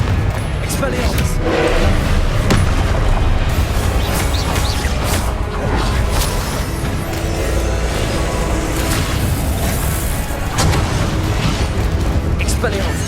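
Confringo fire spells blast repeatedly in the Hogwarts Legacy video game, with booming explosions and bursts packed into a loud, dense battle mix under a voice calling out spell names.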